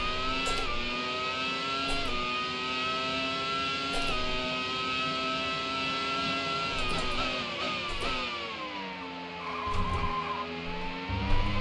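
Race car engines and tyres squeal continuously in the Automobilista racing video game, with sustained pitched wailing that rises and falls through corners and a steady engine drone underneath.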